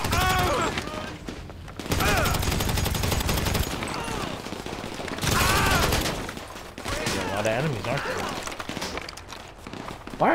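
Bursts of automatic weapons fire in the GTA Online video game, dense rapid rattling in long stretches broken by short pauses, with chaotic game effects mixed in.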